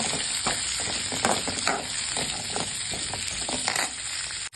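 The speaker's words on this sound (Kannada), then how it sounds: "ಈಗ ಈರುಳ್ಳಿ, ಹಸಿಮೆಣಸಿನಕಾಯಿ ಹಾಕ್ಕೊಳ್ಳೋಣ. ಇದೆಲ್ಲ ಚೆನ್ನಾಗಿ ಹುರ್ಕೊಳ್ಳೋಣ." Onions and green chillies fry in a hot pan with a loud, steady sizzle and hiss, broken by frequent stirring scrapes close by, and nobody speaks.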